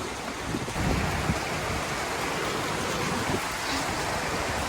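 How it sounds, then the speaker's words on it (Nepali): Heavy rain and hail pour down during a storm in Kathmandu as a dense, continuous roar of pelting drops. The noise is loud and unbroken, with occasional sharper impacts and no voices. "असिना परेर वाह, यति ठुलो पानी पर्यो।"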